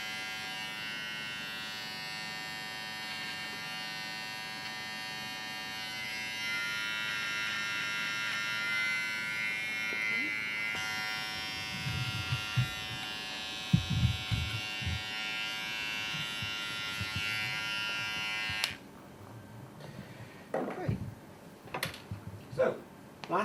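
Hair clippers buzz continuously as they are run along a comb to trim an eyebrow during a classic barbershop cut. The hum stops abruptly near the end, followed by a few soft handling clicks and rustles.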